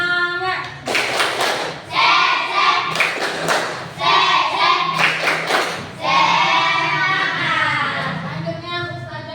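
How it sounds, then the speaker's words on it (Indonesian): A classroom of children doing a rhythmic spirited group clapping chant, loud close claps in patterned bursts mixed with children's voices. "Kemudian kita tepuk semangat sekali lagi ya"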